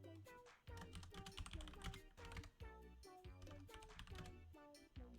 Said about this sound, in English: I was typing in caps, help.